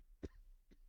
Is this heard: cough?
yes